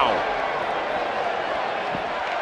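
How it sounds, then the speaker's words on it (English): Arena crowd roaring during a WWE 2K18 wrestling match between Ultimate Warrior and Andre the Giant, a loud, steady wash of cheering noise that holds unbroken throughout. "Listen to this crowd, King."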